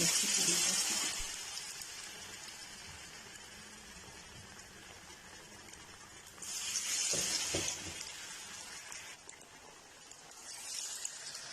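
Samosa pinwheels frying in a pan of oil, giving a soft, steady sizzle that swells in short bursts, faint and close, no talking.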